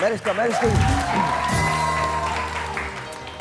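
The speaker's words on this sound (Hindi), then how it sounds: "बहुत सारी तालियां मारिस्का यूनुस के लिए" Applause and cheering from a studio audience on a Pakistani morning TV show's Independence Day special, with shouts and whoops over clapping and steady crowd noise, partly under a host's voice.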